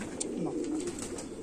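Sheikho pigeons coo softly nearby in a short, low, rolling call that swells and fades within a second or two.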